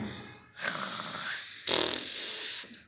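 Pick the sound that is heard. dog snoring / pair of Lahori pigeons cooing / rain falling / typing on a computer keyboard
dog snoring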